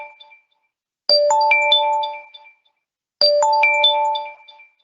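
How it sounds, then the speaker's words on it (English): A video hearing platform's alert rings out as the judge starts the hearing, two loud, clean electronic chime sequences of bright stacked tones, each ringing about a second before stopping, with silence between and no talk. "we once again get a loud ringing sound to alert us that the hearing is about to start"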